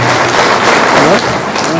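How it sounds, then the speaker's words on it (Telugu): A hall full of people claps hard and continuously at a community get-together in a garden venue, loud and close, forming a dense wash of applause. "కొంచెం గట్టిగా చప్పట్లు ఉంటాయి మళ్ళీ మనం స్టార్ట్ చేస్తాం."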